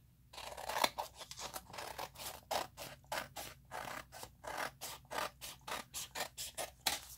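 Scissors snip through paper in a steady run of about twenty crisp, evenly spaced cuts, close and quiet, with no talking.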